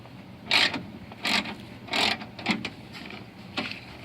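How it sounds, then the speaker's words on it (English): A ratchet wrench turns in short clicking bursts, about five spaced spurts, close and fairly loud, while a window regulator is fitted into a 1998 Honda Civic door. "Ratchet."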